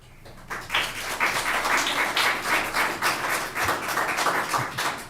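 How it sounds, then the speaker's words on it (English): Audience at a county commission meeting in Shawnee County, Kansas, breaks into steady applause that starts abruptly and keeps a dense, sustained roar of many hands in a large room. "we're not gonna do this applause thing"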